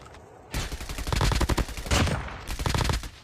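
Gunfire in the mobile game Call of Duty Mobile: loud, rapid automatic bursts, one long stream and then a second burst after a brief pause, heard close with no talking.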